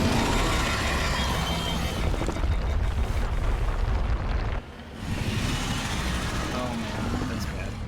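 A bomb detonation in the video game Mass Effect Legendary Edition, a loud, broad rumbling blast with heavy low end that rolls on for several seconds, briefly dips, then resumes with a lingering roar.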